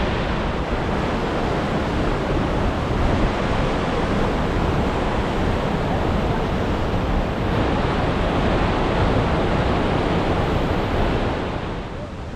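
Huge roar of water plunging at Iguazu Falls on the Brazilian side, a loud, dense, unbroken rush heard close up without a break.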